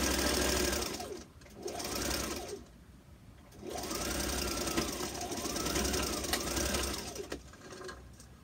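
A sewing machine stitches down fabric for a homemade face mask, running in several close, steady mechanical bursts separated by brief pauses, with no talking.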